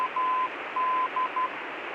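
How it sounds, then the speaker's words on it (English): A steady mid-pitched tone keys on and off in Morse code dashes and dots over a faint hiss of aircraft radio static, the navigation identifier coming through thin and clear. "Morse code"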